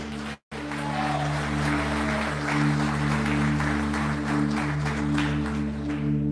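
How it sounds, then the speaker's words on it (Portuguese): A church congregation applauds the Lord, a steady, moderately loud wash of clapping over a constant low electrical hum, with a brief dropout near the start. "Se você crê, dá um aplauso ao Senhor."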